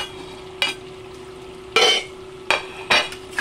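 Pork and chicken afritada with potatoes and carrots being stirred in a pan: a few separate scraping, sizzling strokes stand out against a steady low hum, with no talking.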